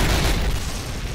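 A heavy explosive detonation in Call of Duty 1 at Brecourt Manor, France, a loud dull boom with a long rumbling tail that fills the moment and slowly fades.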